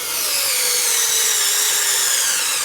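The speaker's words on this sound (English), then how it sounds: "We'll see if the Kobalt can drive a screw a little further than the Craftsman did." A Kobalt battery-powered screwdriver drives a screw with a continuous high whirring motor buzz and grinding, close and loud, holding steady for nearly three seconds before cutting off.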